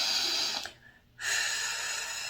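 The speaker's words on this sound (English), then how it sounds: "You take a deep breath." A single deep breath, a close, airy inhale followed after a brief pause by a long soft exhale, with no one speaking.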